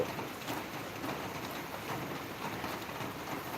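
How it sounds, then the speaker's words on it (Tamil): Steady rain pours down outdoors, making a continuous hissing wash of moderate loudness with no breaks or other sounds. "எம்பரில் மழை வருது"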